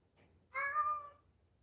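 A house cat lets out a single clear meow lasting under a second, close and fairly loud against a quiet room during a live stream.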